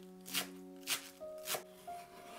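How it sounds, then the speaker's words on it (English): A knife minces green onion and cilantro on a board with three or four crisp, evenly spaced chops, each one a short bright stroke, over a faint steady tone in the background. "Mince a green onion and 5 grams of cilantro."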